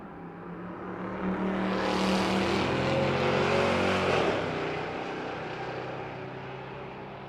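Two drag racing cars, a square-body and a Mustang, roar down the strip at a race week event, loud engines rising and passing close with a swelling whine before fading slightly.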